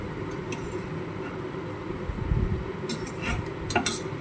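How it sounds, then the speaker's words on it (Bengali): A low bubbling simmer of fish curry with a few metallic clinks and scrapes as a pot lid is lifted and set aside. "ঢাকনা তুলে তোমাদেরকে দেখাচ্ছি"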